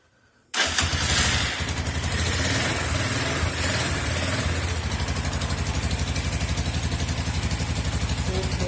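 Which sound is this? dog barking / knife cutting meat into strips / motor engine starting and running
motor engine starting and running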